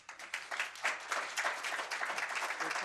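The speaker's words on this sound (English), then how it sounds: "Please give her a big round of applause." An audience at a graduation and recognition ceremony breaks into steady applause, many hands clapping in a dense, even wash that holds at moderate loudness throughout.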